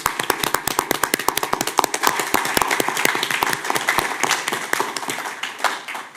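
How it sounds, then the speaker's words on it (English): Applause from the audience at a city commission meeting, a dense burst of many hands clapping that tapers off toward the end, in a room with no voices over it. "give them both a round of applause"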